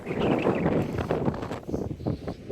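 Strong wind gusts outdoors at Sycamore Gap near Steel Rigs, buffeting the microphone with a loud, continuous rumbling roar that swells and eases.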